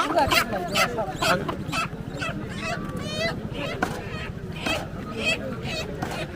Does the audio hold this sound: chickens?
yes